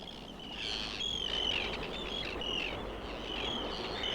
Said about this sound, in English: The arrival of the Arctic tern heralds the brief Shetland summer.